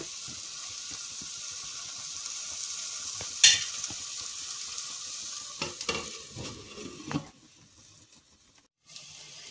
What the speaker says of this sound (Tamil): நம்ம போட்ட மிளகாத்தூள், மல்லித்தூள், மஞ்சத்தூள் எல்லாம் வதங்கி அந்த பச்சை வாசனைலாம் போயிடுச்சு